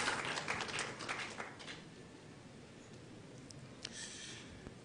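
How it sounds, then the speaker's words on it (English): Scattered applause from an audience at a mediation committee report presentation, loud at first and thinning out over a few seconds. "Shall we welcome him with an applause, please?"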